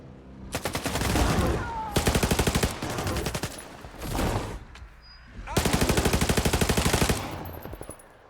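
Long bursts of rapid automatic gunfire in the video game S.T.A.L.K.E.R. 2 repeat several times with brief gaps between them, loud and close, with a few isolated single shots.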